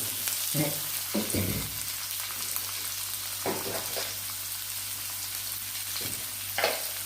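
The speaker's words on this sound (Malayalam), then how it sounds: "ഈ സവാള ഒന്ന് നല്ലപോലെ ഒന്ന് വഴറ്റിയെടുക്കട്ടെ" Sliced onions sautéing in a pan, a steady soft sizzle and hiss throughout, with a few scattered stirring scrapes and knocks, close by and no talking.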